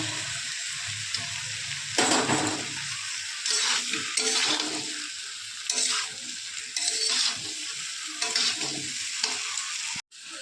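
Pointed gourd and shrimp curry with fried potato stir-fried in a pan, a constant close sizzle broken by regular scraping stirs of the spatula roughly every second, with no one speaking.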